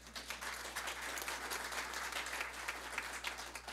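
An audience at an executive institute event applauds with a dense, even patter of clapping for a few seconds. It sounds faint and distant over a low steady hum.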